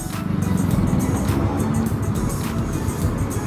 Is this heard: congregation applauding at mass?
no